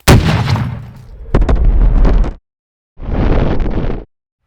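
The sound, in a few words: det cord exploding down a .50 cal rifle barrel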